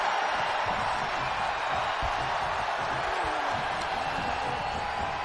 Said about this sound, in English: when you can't hear yourself think because the crowd's so loud